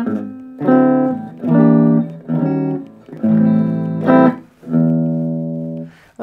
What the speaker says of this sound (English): So this is clean channel.